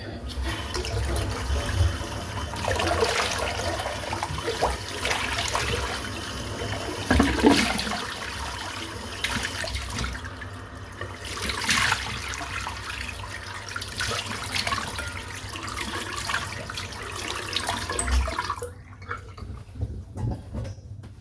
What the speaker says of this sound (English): Right, let's rinse the brush out.